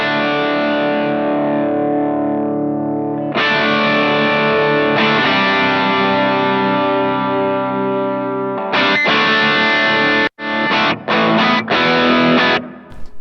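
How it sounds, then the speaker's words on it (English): An electric guitar played through the distortion module of an M-Vave MK300 multi-effects unit gives loud, sustained distorted chords, then a run of choppy, stopped chords near the end. "So there's also a distortion module in here"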